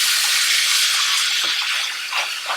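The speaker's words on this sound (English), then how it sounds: "wipe out my sink and then fill it with some water, nice hot water" Hot water runs steadily from a tap into a bathroom sink, a continuous close, full rush of flowing water with slight shifts in splash toward the end and no talk.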